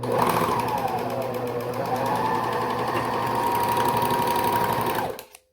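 A sewing machine runs steadily, stitching the ends of a knit neckband for a Minikane doll sweater, a close, even whir lasting about five seconds before stopping abruptly.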